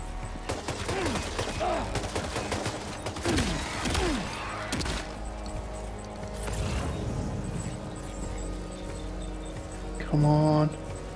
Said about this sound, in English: Got no idea who's shooting at me.